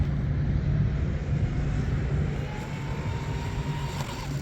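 An M500 Mini Mono RC boat with a small 2948 motor buzzes steadily across water, a continuous whining drone at moderate distance with no talking.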